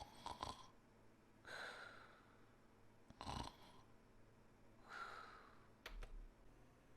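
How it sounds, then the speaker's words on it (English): Snoring from a sleeping character lying beside the player on a futon in the game Hakuoki: Edo Blossoms, about four slow, breathy snores spaced a second or two apart, soft and close, with no talking. "Oh no, snoring."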